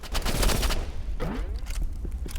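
Gunfire in the video game Rivals: a rapid burst of loud, close shots, then a short rising whooshing streak and a few scattered later shots.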